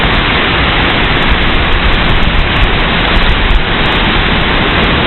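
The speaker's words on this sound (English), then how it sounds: "And here is the waterfall." A waterfall on Kauai roars in heavy rain, a dense, loud, unbroken wash of rushing water that fills the scene with no voices heard.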